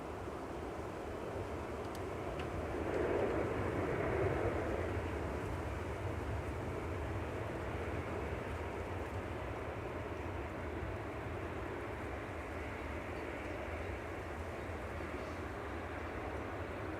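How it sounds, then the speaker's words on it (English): A Boeing 737-800 arriving from Copenhagen at Manchester Airport passes as a faint, distant jet roar, swelling slightly early on and then holding steady, with no talk. "6880 from Copenhagen, 9HQCR, 737-800."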